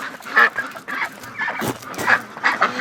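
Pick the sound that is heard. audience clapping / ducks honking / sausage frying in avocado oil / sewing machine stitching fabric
ducks honking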